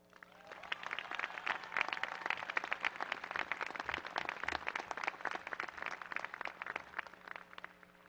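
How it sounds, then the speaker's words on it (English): Academic staff and audience at a Sonoma State University commencement ceremony applaud, a steady wash of many hands clapping, heard from a distance, with a low hum underneath. "I would like to ask the academic staff and audience to come together in applause"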